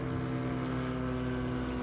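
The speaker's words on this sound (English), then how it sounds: "Airplanes right overhead." Airplanes pass low overhead during an outdoor walk, a steady, continuous droning hum with a strong low tone that holds at an even level throughout, with no talking.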